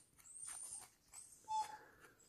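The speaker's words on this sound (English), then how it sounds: "The dog wants to play with the ball that's on the cabinet." A dog whimpers and yips in short bursts, wanting to play with a ball resting on a cabinet, faint and somewhat distant in a quiet room.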